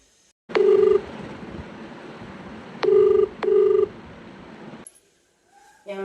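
An unanswered phone call ringing: a steady ringback tone runs under a repeated pair of electronic beeps, then cuts off, followed by a brief electronic chirp at the end.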